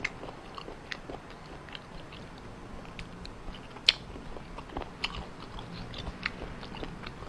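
Close, crisp crunching bites and chewing of raw squid and shellfish sashimi, irregular crackling chews repeating steadily with no talk over them.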